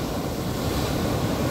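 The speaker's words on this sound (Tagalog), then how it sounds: "Low tide pa rin kaya lang malakas yung alon." Strong surf rolls onto the beach at low tide at Mula De La Paz Beach Resort in San Narciso, Zambales, a loud, steady roar of breaking waves mixed with wind buffeting the microphone, with no voices.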